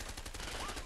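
Gunfire in the video game A Way Out, a quick run of faint rhythmic shots under a steady, dense background mix.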